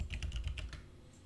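Quiet, rapid keystrokes on a computer keyboard while creating a Java class, a quick run of distinct clicks tapering off into near silence.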